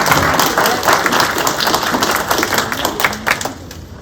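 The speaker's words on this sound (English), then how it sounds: "Everybody, a round of applause." Loud, close applause from an audience at a makeup contest, brisk overlapping claps in a busy burst, a few whoops and voices mixed in, easing slightly toward the end.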